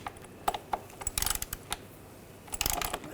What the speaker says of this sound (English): we're going to torque these to 9 foot-pounds